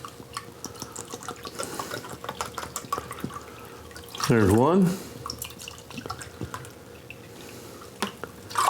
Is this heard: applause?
no